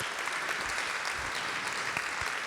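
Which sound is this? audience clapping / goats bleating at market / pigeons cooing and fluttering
audience clapping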